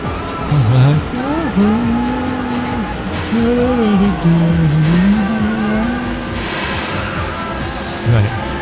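Race car from the Dreamcast game Daytona USA 2001 roars steadily with rising and falling engine pitch and brief tire squeals through corners, while someone talks over the game audio throughout.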